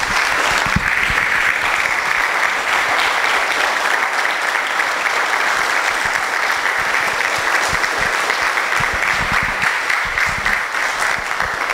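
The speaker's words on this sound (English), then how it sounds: "There should be a standing ovation, guys." An audience gives a standing ovation after an arts performance: dense, continuous clapping fills the room at full strength from start to finish, with no voices rising above it.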